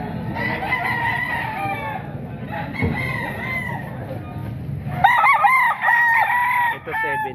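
A seven-month-old White Hatch gamefowl rooster crows loudly at a busy outdoor market, with repeated crows and clucks over a constant crowd murmur, and other fowl calling nearby.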